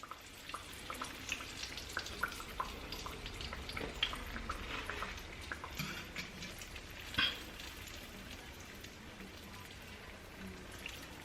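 Green tomato slices fry in a pan for Southern fried green tomatoes, giving a faint, steady crackling sizzle dotted with small pops and one brief louder spatter, with no voices.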